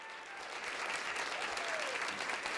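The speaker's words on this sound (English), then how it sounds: "I think he deserves another round of applause." Audience applause fills a hall after a motivational business talk to the Vital Records Association, steady dense clapping that holds loud and even for the whole stretch with no voices on top.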